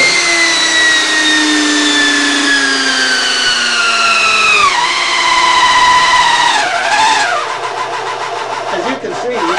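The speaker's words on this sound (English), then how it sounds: "Start the drill." An electric drill runs continuously through an Energy Release engine treatment demonstration, its loud, close motor whine sliding downward in pitch and dipping twice as it labors, then recovering near the end.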